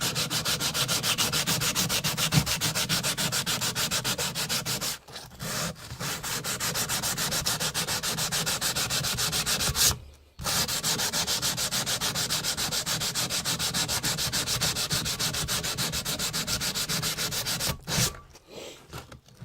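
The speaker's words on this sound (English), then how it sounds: "we will continue polishing all the way up to 400 grit" A knife blade is hand sanded and polished up to 400 grit, a loud continuous rapid back-and-forth abrasive rubbing, close up, broken only by a few short pauses.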